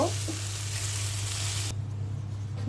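Ash gourd (chal kumra) bhaji sizzles steadily in a pan while it is stirred, a close broadband frying hiss that drops away sharply near the end, with no talking.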